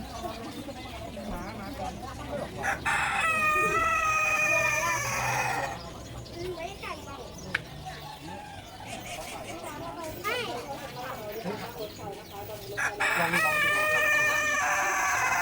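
A rooster crows twice at a cafe in Pak Tho, Ratchaburi, Thailand, loud and nearby, each call rising and stretching out, with hens clucking and people chatting in the background.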